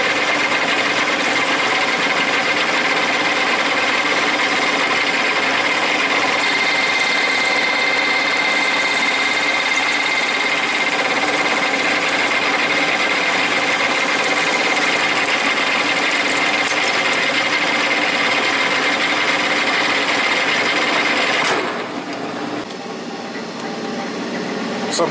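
Manual metal lathe cutting steel in high range, a steady loud mechanical whir with a high-pitched tonal whine and gritty cutting noise that runs continuously before dropping off near the end.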